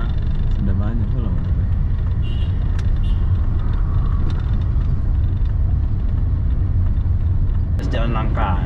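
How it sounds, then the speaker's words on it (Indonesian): Steady, loud rumble of car and motorcycle traffic on a business street in Pekanbaru, engines droning continuously close by with a brief horn-like burst near the end. "Ini banyak motor."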